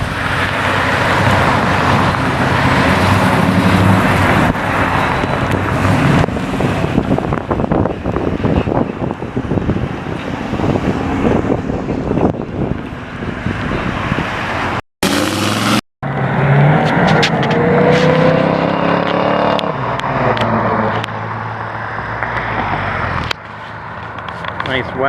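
Classic cars, including a Chevelle and a wagon, roll out of a Napa Parts car cruise one after another, engines rumbling steadily close by amid wind buffeting and crowd chatter, with a brief dropout midway.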